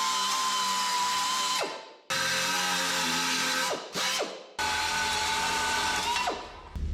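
A power drill bores holes in the sheet-metal body of a 1967 Toyota Stout truck, three long whining bursts each ending as the motor spins down, with brief pauses between.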